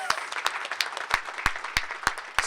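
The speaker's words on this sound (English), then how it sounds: "that deserves a big round of applause." Applause at a St. Paul public library celebration for a transformed children's area: scattered, fairly sparse clapping with distinct individual claps standing out, moderately quiet and brief.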